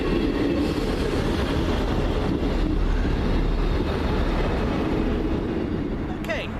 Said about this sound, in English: Now departing 158A89 with the 1021 South West train service from Romsey to Salisbury.